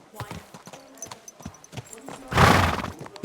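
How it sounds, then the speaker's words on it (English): A horse in the game Kingdom Come: Deliverance II gives a loud, close neigh late in the clip, preceded by sharp clip-clop hoofbeats and scattered knocks, with talk from game characters nearby. "Easy, good horse."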